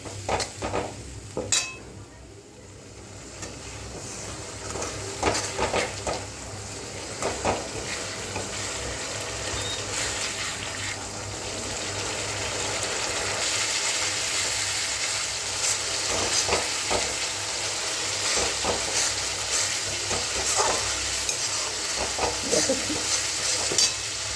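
Spice paste for a Bengali pomfret curry sizzles and fries in a pan, thinned with water from rinsing the spice bowl, while a spoon scrapes and stirs steadily throughout in a close, continuous hiss.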